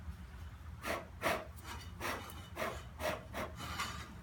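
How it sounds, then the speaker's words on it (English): Burnt Coleman lantern mantles being rubbed off by hand, heard as a series of about seven soft, dry scraping strokes at an uneven rhythm, close and quiet, with no talking. "What I do is I just blow them off, take my hand and rub them a bit."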